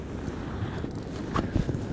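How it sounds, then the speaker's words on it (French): Swirling wind buffets the microphone during a fishing outing in harsh weather, a constant rough rumble with brief gusty bumps and nothing else. "avec un vent tourbillonnant c'est quand même compliqué quoi"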